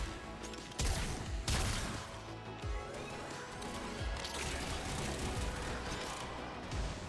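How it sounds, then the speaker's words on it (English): Repeated explosions and crashing bursts in the video game Warframe, several loud blasts within a dense, continuous din of game effects and gunfire-like noise. "That was an explosion. That was another explosion."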